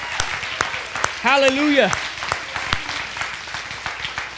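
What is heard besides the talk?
congregation clapping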